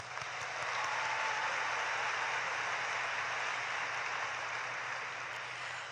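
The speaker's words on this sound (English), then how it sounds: "Let's give her another round of applause." Steady applause from a large crowd at a high school graduation ceremony, a broad even wash of clapping lasting several seconds, fairly distant and moderate in level with no talk over it.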